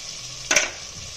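Whole spices and chili powder for butter chicken fry in a pan, a brief burst of sizzle and a stir scrape rising over a quiet background.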